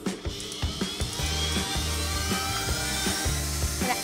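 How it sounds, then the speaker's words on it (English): Eggs and sugar whisked together in a Swedish kitchen, heard as a whining motor with rhythmic thumps as the beaters knock around the bowl, close and fairly loud. "I'm now going to whisk up some eggs and sugar."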